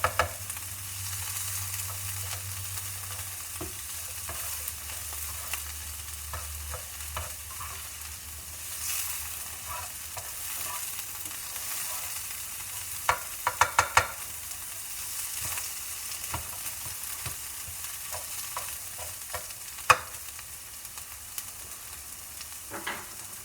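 Food browning in a hot pan, a steady low sizzle and crackle throughout with a few sharper pops and spatters now and then, heard alone without talk.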